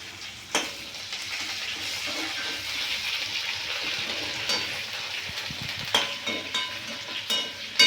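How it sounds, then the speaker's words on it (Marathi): Curry leaves, coriander and garlic greens frying in oil crackle and sizzle loudly and continuously, with occasional sharp pops and clatters of stirring near the end. "आता तेलामध्ये कढीपत्ता, कोथिंबीर आणि लसणाची पात टाकून घ्यायचं आणि ते पण मस्त असं कडक होईपर्यंत तळून घ्यायचं."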